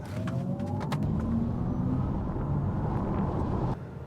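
An Audi e-tron GT quattro electric coupe launching hard from a standstill, a loud, steady broadband road and tire roar with a faint rising electric whine, heard from inside the cabin with no talking.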